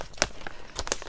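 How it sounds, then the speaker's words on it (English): Scissors cutting open a plastic mailing bag, two sharp crinkling snips close by with softer rustling between them, no talking. "So I'm just going to cut this bag."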